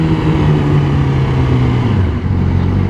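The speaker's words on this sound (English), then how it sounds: "Let me give it a couple revs." A Yamaha R6 sport bike, custom-built and sitting in a tunnel, holds a steady loud engine note throughout with a slight dip near the end, close and continuous with no talking.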